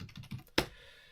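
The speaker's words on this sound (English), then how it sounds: "I'm just typing in silicone grease into Amazon here so I can show you" Several soft keystrokes tap out on a computer keyboard while a product search is typed, ending in one sharper, louder key press, with quiet room tone after.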